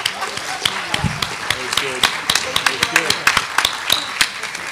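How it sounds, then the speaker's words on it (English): An audience applauding panelists at a health issue forum, with steady, fairly close clapping and sharp individual claps throughout, plus some voices over it. "Let's give one more round of applause to our panelists."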